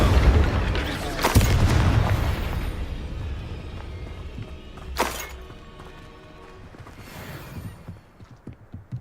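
A fire spell cast in the Hogwarts Legacy video game, a loud whooshing burst that flares and fades, followed by further bright magical bursts over a busy game soundscape.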